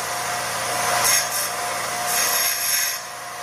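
A belt sander takes a burr off the lip of a piece of silver jewelry with a light, hissing, grinding rasp that swells and eases in a few short passes.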